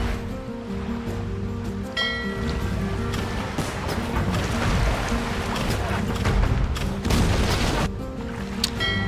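Cannon galleons fire in Age of Empires II, with several loud booms breaking through a constant wash of sea and ship ambience.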